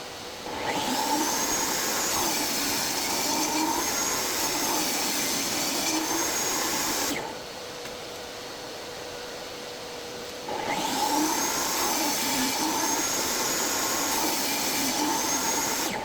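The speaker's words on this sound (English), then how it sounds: "we quickly ripped these down to the width that they needed to be" A saw rips boards lengthwise in a garage while cutting material for speaker baffles, loud and steady in two long passes with a brief quieter gap between them, and no talking.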